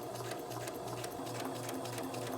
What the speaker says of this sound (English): Fold them over and sew them right sides together.